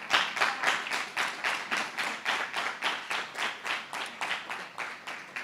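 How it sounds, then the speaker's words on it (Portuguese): A church congregation claps in a steady, rhythmic beat, about three claps per second, close and fairly loud throughout. "dando uma salva de palmas para Jesus"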